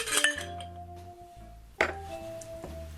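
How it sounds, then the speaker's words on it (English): Ice cubes clink and rattle into a glass while a Monkey Gland cocktail of London Dry gin and orange juice is built, with a sharp clatter at the start and a second drop of cubes midway, close and clear. "So, I'm going to put the ice in first."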